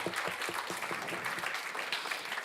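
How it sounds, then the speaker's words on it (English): An audience at a live event in St. Augustine applauds in honor of Frida Dichter Brandeis's ghetto artwork, giving a continuous patter of many hands clapping, fairly soft and even throughout. "applaud her"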